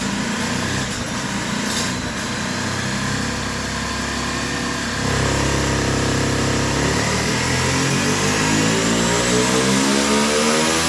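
A turbocharged go-kart engine runs hard on a dyno, a loud, steady high-pitched drone that climbs in pitch as it revs up, with no talking over it.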